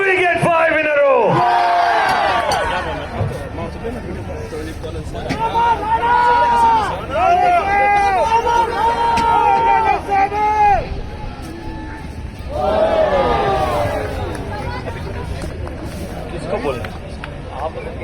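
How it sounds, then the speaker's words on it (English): A cricket crowd at a Hong Kong Sixes match chants and cheers loudly in rising rhythmic waves, with bursts of massed voices and a short lull between the swells. "The crowd want another one."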